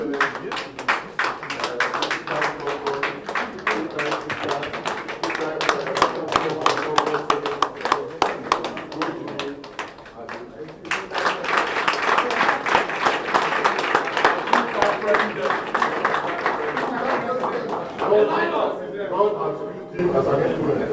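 Crowd applause with dense clapping runs throughout, swelling louder after the midpoint, with voices mixed in beneath it.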